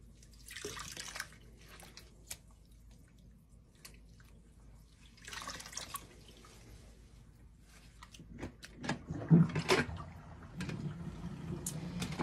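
Wool locks are rinsed in a small amount of water, with soft intermittent splashes, swishing and dripping, quiet and close, growing busier toward the end.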